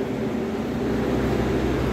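Steady low rumble inside a Sembrani passenger train carriage riding on K10 bogies between Semarang and Jakarta, a constant droning hum with no talking.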